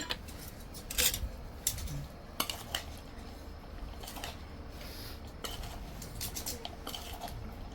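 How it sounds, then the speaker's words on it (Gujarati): A utensil scrapes and clinks against a small metal pot of chana soup with boiled potatoes in repeated stirring strokes, with sharp clanks now and then over a quiet background. "આપણું તપેલું નાનું પડી ગયું હલાવવા માટે"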